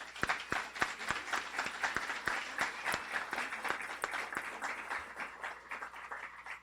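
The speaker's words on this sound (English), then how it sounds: "Let's give them all a round of applause." Audience applauding graduates of a guide dog training program, a crowd's clapping spreading through the room with several sharp, distinct close claps standing out in an uneven rhythm, fairly loud and sustained.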